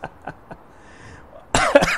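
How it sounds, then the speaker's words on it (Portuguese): A few faint ticks, then a sudden loud throat clearing up close, harsh and short. "Eita, o pigarro aqui."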